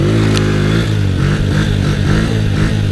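An ATV engine revs loudly and continuously up close, its throttle rising and falling in a rough, pulsing roar with a brief clatter near the start.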